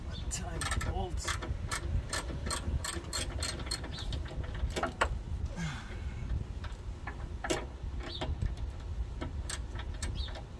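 An inner tie rod tool breaking a bolt loose gives off rapid, close ratcheting clicks and sharp metallic ticks that run steadily throughout over a low mechanical rumble.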